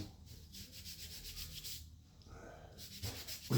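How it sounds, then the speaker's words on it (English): A Scotch-Brite pad scrubs deposits off a smoked chainsaw cylinder, making quiet, close, rhythmic rubbing strokes with brief pauses between passes. "you can clean these stones off with a Scotch-Brite."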